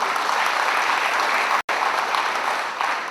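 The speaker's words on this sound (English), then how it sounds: "Ladies and gentlemen, a round of applause for Professor Dalu." Dense, continuous applause from an audience at an IIM Ahmedabad class reunion as a professor is honoured, loud and even throughout with one abrupt brief dropout midway.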